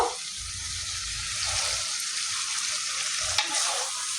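Chopped tomatoes and mutton fry in oil in a pan for a Bengali-style home-cooked goat curry, giving a steady loud sizzle with stirring scrapes and a brief clatter near the end, no voices.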